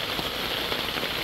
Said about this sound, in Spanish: Y oigan la lluvia.